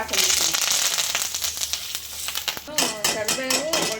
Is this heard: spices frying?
yes